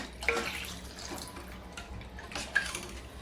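Water poured into a pot of curd and gram-flour batter for kadhi, faint splashing and trickling with two brief louder pours over a quiet kitchen background.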